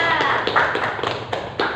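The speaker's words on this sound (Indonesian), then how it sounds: "Tepuk tangan untuk Siti sama Kia." Classroom applause for two students, Siti and Kia, during a grade 12 accounting lesson, heard as a short burst of brisk, uneven claps with sharp taps and a little talk mixed in.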